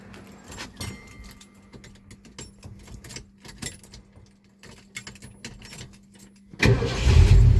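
Keys jingle and click softly near a 1973 Ford Mustang Sportroof with a Cleveland engine, then the engine starts and fires into a loud, close rumble for the final second.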